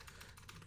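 Rapid clicking of keys on a computer keyboard during a Warframe gaming session, a quick flurry of soft clatter heard alone and fairly faint.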